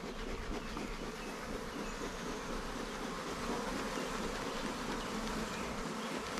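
Honey bees at a busy backyard hive in summer heat, two months after a package install, a dense continuous buzzing drone, close and steady throughout.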